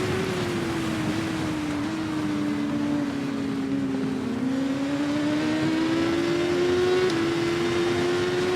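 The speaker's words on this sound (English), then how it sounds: "Now we can hit the throttle down the back stretch." Motorcycle engine at full throttle in the TT Isle of Man 2 racing game: a steady, loud, droning whine that dips slightly in pitch, then climbs again as the bike accelerates down a straight.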